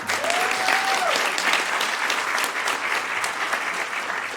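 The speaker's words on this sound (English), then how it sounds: "yeah, you can applaud, go ahead" Audience in a city council chamber applauding an honoree from a community Juneteenth organization, loud sustained clapping with a brief feedback-like tone early on and no speech.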